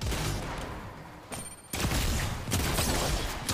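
Shotgun fire in the Fortnite Chapter 4 video game comes as sharp, loud blasts, with one burst midway and another shortly after, over busy game noise.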